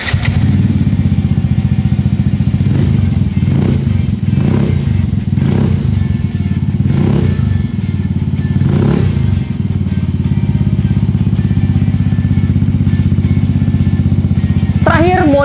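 A modified Yamaha Fino scooter with a carbon fiber exhaust idles with a steady low rumble throughout, close by, with a few clattering knocks and a voice speaking over it.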